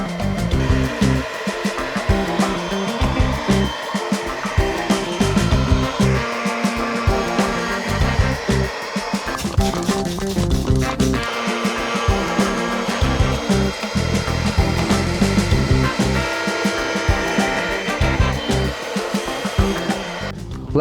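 A handheld car seat cleaner vacuum runs with a steady, loud motor whine and rough suction noise that shifts slightly as it is pressed and pulled across upholstery, continuous throughout with no talking.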